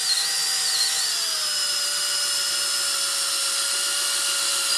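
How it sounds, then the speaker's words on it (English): A power drill bores through a helmet, giving a steady, high-pitched whine whose pitch dips slightly and then holds as the bit cuts, close and continuous with no talk. "start to drill through the helmet."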